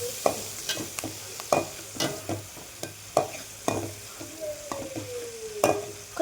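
Onions fry in a pan while a spatula stirs them: regular sharp scraping knocks about every second over a soft, steady sizzle, close and clear, with no voices.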